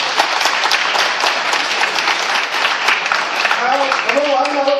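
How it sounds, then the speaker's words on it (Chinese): Sustained audience applause at a seminar-style gathering, dense steady clapping from a large crowd filling the room, with a voice starting to speak over it near the end. "再一次掌声啊"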